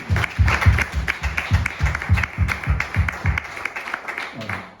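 A church congregation claps together in a steady, rhythmic beat that fills the room, loud and close, with voices mixed in under the clapping.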